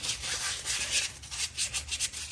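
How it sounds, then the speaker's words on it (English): Sandpaper scrubs back and forth on a brake part from a Ford Explorer Sport Trac, up close, in quick rhythmic gritty strokes with no talking. "I got that sandpaper from the back one"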